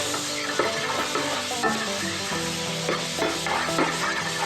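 Vegetables fry in a pan alongside artichoke, giving a steady, close, broadband sizzle with faint stirring clinks and scrapes scattered throughout and no talking.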